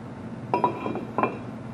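An old brake rotor being pulled off a 2004 Buick LeSabre gives a few quiet metallic clinks and taps in a short burst, close by and otherwise near silent.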